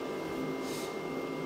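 A Flashforge Adventurer 5M Pro 3D printer runs with its door closed, giving a quiet, steady mechanical hum with faint whirring from the enclosure. The sound is constant throughout, with no talk.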